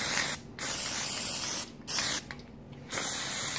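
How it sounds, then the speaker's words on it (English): A spray can sprays gray Plasti-dip onto a leatherless foam crossguard for a Dagorhir weapon in three loud, close bursts of steady hiss separated by short pauses. "So I will spray down this final layer with gray Plasti-dip of all things"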